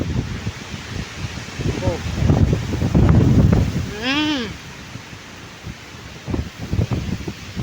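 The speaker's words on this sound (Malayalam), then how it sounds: "കാറ്റെന്ന് പറഞ്ഞാൽ ഭയങ്കര കാറ്റ്." Strong gusty wind blows and rumbles outdoors where a tree has fallen across a road, surging and easing in waves, with voices and a brief exclamation heard over it.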